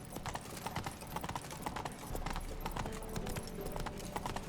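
Geralt's horse Roach galloping in The Witcher 3, rapid hoofbeats drumming steadily and continuously at moderate distance, fairly quiet under faint game ambience.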